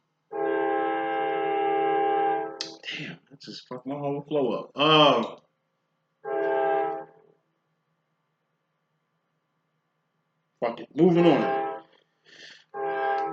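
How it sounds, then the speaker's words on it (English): A train horn sounds in a long steady blast near a house beside the tracks, then stops, followed later by a second short blast; someone talks between and after the horn. "Damn, that train must be right on the track, right by my house."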